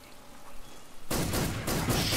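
A single loud gunshot in the stealth game Metal Gear Solid 3 cuts in abruptly after a quiet jungle ambience, followed by a sustained roar of echoing noise.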